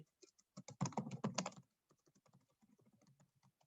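Someone typing C# code on a computer keyboard up close: a dense burst of rapid key clicks, then a lighter, scattered run of taps, quiet and without talk.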